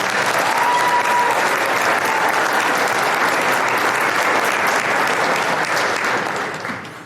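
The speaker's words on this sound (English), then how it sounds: "give these ambassadors a big round of applause" Steady, loud applause from a crowd at a chamber of commerce banquet fills the whole stretch, then fades slightly at the end.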